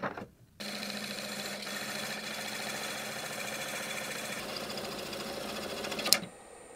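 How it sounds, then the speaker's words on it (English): A lathe hums steadily nearby as a giant 2000 g dragon egg is parted off, a continuous droning whir that ends with a sharp click and then drops to quiet. "it's back on the lathe to part it off."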